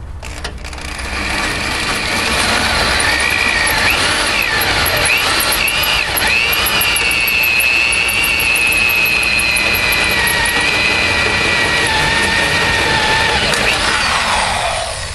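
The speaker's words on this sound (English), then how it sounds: "I'm going to try doing this with the hand drill." A hand-held power drill whines loudly and continuously as it bores holes into metal on a 1953 Ford truck, its pitch wavering and dropping as it bites, then spinning down at the end.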